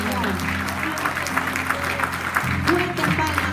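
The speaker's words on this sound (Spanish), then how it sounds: "dale fuertes palmas al Señor." A church congregation at a Spanish-language worship service claps loudly and steadily throughout, with a sustained musical drone underneath and a voice briefly rising near the end.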